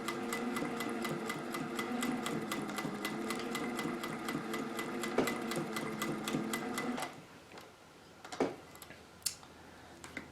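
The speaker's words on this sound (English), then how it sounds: "we're going to sew across this one several times" Sewing machine running steadily to stitch across a cotton face mask, its rapid, even ticking rhythm continuing for about seven seconds before stopping, followed by a few faint handling knocks.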